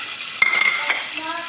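Onions and green chilies sizzle in hot oil in a pan, with a sharp clatter as they hit the fat, then a steady crackling fry with light scraping, close and fairly loud.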